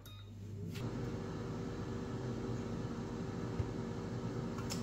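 An air fryer running at 200 degrees Celsius while cooking a healthy dinner: a steady whirring fan hum with broad airy noise that starts up within the first second and continues evenly, close and without talk.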